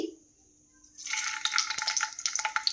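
Stuffed bitter gourds dropped into hot oil in a kadai: quiet at first, then a sudden, steady sizzle with crackling pops that grows louder and continues to the end.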